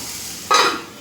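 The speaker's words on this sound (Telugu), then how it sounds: "ఇది బాగా ఫ్రై అయిపోయింది." Dried red chilies fry in a pan for a capsicum paneer curry. A soft hiss jumps into a sudden bright sizzle partway through, then fades away within the second.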